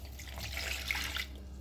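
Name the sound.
a glass of water poured into pizza dough mix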